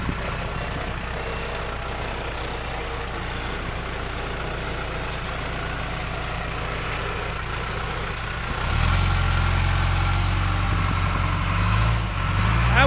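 A 2002 John Deere 310G backhoe's diesel engine idles steadily close by, a low even rumble that deepens and grows louder partway through as the revs rise.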